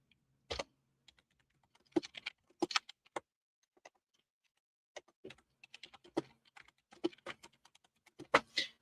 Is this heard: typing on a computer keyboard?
yes